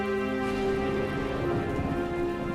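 Heavy rain pouring down in a steady dense wash with a low rumble underneath, continuous and close with no pauses or talking.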